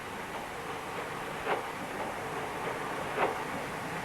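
A 1970s train on the Tarka Line from Exeter to Barnstaple rumbles steadily at low level, with two brief clanks from the rails.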